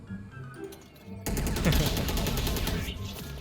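A teammate in a shooter video game opening up with sustained rapid automatic gunfire, loud and continuous after a brief quieter stretch with faint background sounds.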